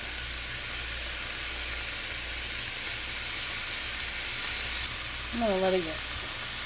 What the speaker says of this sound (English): I'm gonna get it nice and seared, and then I'll flip it around.